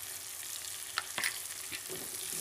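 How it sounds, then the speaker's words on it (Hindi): Capsicum tossed into a pan with cooked potatoes, giving a soft, steady sizzle close by, with a couple of brief scrapes and clicks from stirring, fairly quiet and with no talk. "अब सबसे पहले हम यहाँ पर शिमला मिर्च डाल लेंगे"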